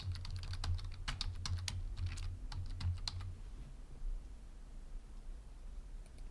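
A password being typed on a computer keyboard during a VMware ESXi and vCenter setup: a rapid run of crisp key clicks for about three seconds, then a few isolated taps in a quiet room.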